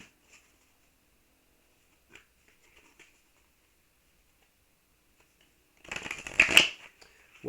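A deck of Starseed oracle cards is shuffled in a brief, close burst of riffling and flicking near the end, after several seconds of near silence broken only by a few faint taps.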